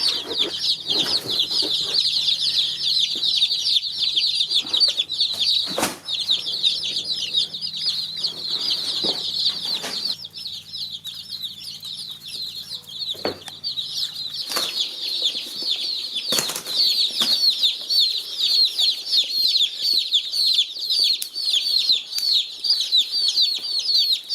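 A group of baby chicks, including buff Orpington and barred rock pullets on a homestead, cheep continuously in a high shrill chorus, with occasional soft thumps and rustling of movement.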